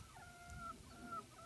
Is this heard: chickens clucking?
yes